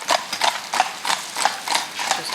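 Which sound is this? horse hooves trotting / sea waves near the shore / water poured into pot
horse hooves trotting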